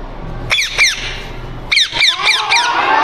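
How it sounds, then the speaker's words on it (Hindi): A parrot squawks in a recorded bird call: two harsh, loud calls, a pause, then four more in quick succession, standing alone against a low background hum. "पैरोट मतलब तोता।"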